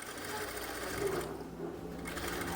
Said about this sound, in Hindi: अस्तर मैंने ऊपर रखा है देखो, और इसके साथ साथ राउंड में सिलाई लगा रहा हूँ मैं।